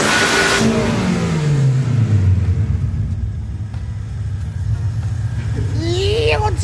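Mercedes W204 engine fitted with a velocity stack intake, revving loudly up close: a sharp throttle blip that falls away, rumbling idle, then another rising rev, with voices around it.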